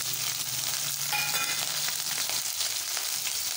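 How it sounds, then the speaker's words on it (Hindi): Cumin seeds and chili frying in hot oil over high flame, a steady close crackling sizzle throughout, with a brief clink of a spoon and no talking. "हमारा तेल गर्म हो चुका है, हम इसमें जीरा डाल रहे हैं 1 चम्मच। फिर मिर्च डाल रही हूँ"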